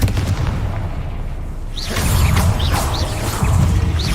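Confringo fire spell cast repeatedly in the Hogwarts Legacy game, with booming blasts and whooshing bursts over a busy mechanical combat background that swells in loudness partway through.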